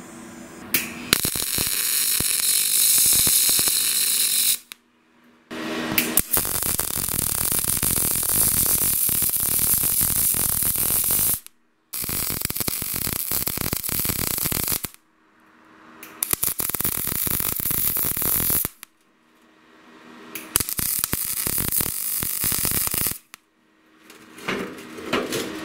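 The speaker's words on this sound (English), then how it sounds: "I'm just going to weld that together" A Yeswelder DP200 welder joins steel held in welding vice grips, a loud crackling, hissing arc that runs in several long bursts separated by brief silences, with no talking.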